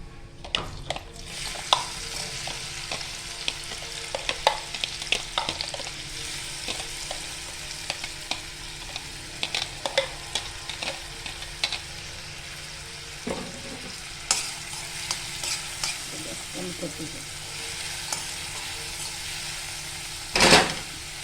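Finely chopped onion fries with cumin seeds in a pan for a matar poha breakfast, a steady close crackling sizzle broken by frequent scraping and tapping of a spatula, with no one talking.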